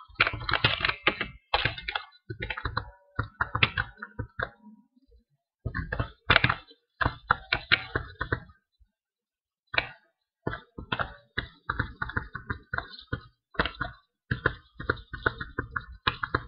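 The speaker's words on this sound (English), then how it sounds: "Tell me in the comments if it's too loud, my clicking." Rapid mouse and keyboard clicking while playing Minecraft on a laptop, close and fairly loud, in irregular bursts with short pauses throughout.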